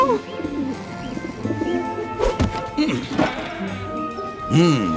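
Pigeon cooing in soft, rolling bursts scattered through the stretch, set among clattering background noise and other sounds, with the final coo rising more strongly near the end.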